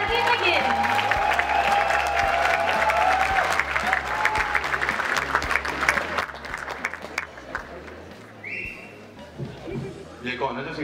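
Audience applause and cheering fill a comedy show venue, a dense, loud wash of clapping with crowd noise and music underneath that fades toward the end.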